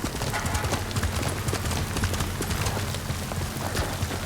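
Horse galloping in the video game Ghost of Tsushima, a fast, steady clip-clop of hooves running loud and continuous under game music and ambience.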